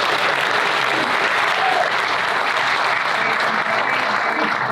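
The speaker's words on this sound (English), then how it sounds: "Can we get a big round of applause for UNG?" Audience at a drug awareness council summit gives a big round of applause, a thick continuous wash of many hands clapping at steady loudness, with no voices over it.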